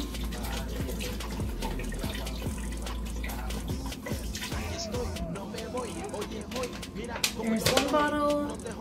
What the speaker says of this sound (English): Now I'm gonna add water.